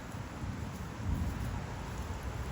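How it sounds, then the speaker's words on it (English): Steady rain hisses continuously, a dense broadband wash with a low rumble underneath and no voices. "raining, folks."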